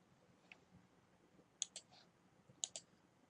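Computer mouse clicks sound in two quick double-click pairs, sharp and close against a quiet room background.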